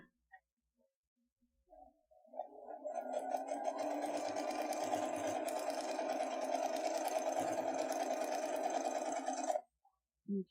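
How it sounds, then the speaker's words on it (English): A sewing machine stitches fabric with the presser foot lined up on a marked line. Its even, rapid whir runs steadily for about seven seconds, then stops abruptly. The sound is close and moderately loud, and there is no talking. "bring it over to the sewing machine again"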